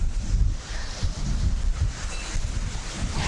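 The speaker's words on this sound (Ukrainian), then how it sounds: "Вітер дме." Wind blows in low, rumbling gusts across the microphone while fishing outdoors, buffeting steadily with a hollow, open-air roar.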